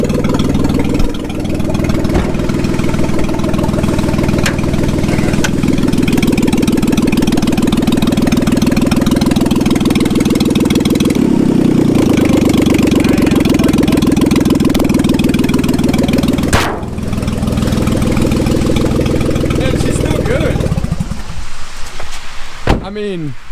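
A car engine idles steadily after its oil was replaced with White Claw, a close continuous rumble with a brief clunk near the end and a sharp knock just before it stops.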